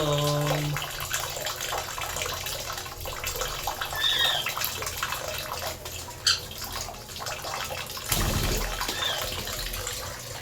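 A lovebird bathes alone in water, splashing and fluttering with dripping and running-water sounds, close and moderately loud, while a person talks softly over it.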